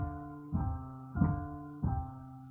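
Slow piano trill exercise in three evenly spaced phrases, each a clear struck attack with sustained harmonic tones decaying between, played alone at a moderate, unhurried pace.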